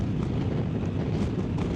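Steady, loud wind buffets the microphone with a dense low rumble while riding a 2024 Honda Africa Twin DCT motorcycle along a highway.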